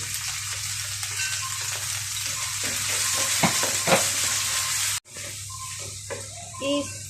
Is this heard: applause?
no